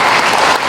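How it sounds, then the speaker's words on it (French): An audience at an evening fundraising event applauds, a dense, steady wash of many hands clapping together at a loud, even level throughout. "Je voudrais que vous applaudissiez pour ces Camerounais."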